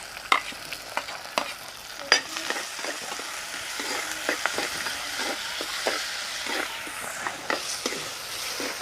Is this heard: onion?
yes